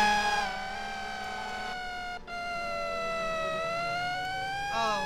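A wailing emergency vehicle siren in the Roblox game Springbrook FD, loud and continuous with rising and falling tones, heard alone without talk.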